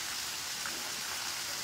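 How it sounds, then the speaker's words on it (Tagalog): Steady rain falls in an even, hissing patter on surfaces, moderately close and unbroken, with no talking. "Ulan."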